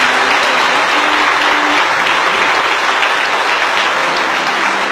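An Assembleia de Deus church congregation applauds a new member, a loud, dense, continuous wall of clapping from many hands, close and unbroken throughout.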